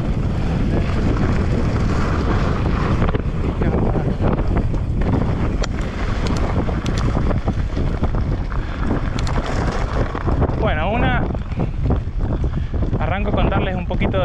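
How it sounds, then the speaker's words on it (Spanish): Strong wind roars steadily across the microphone at sea on a racing sailboat. The loud, constant buffeting mixes with water and boat noise, and a voice is faintly present. "ahora va a haber manso viento"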